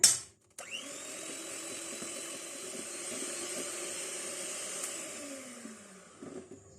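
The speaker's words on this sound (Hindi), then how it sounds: "दूसरा अंडा डालेंगे और इसको मजीद बीट कर लेते हैं।" An electric hand mixer beats an egg into mocha coffee brownie batter with a steady, close motor whine. It starts with a short burst, pauses briefly, then runs continuously and fades out at the end.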